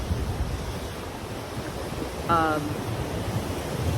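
Ocean surf washing steadily onshore, a continuous broadband rush mixed with wind buffeting the microphone, with a brief tonal, voice-like call rising over it midway.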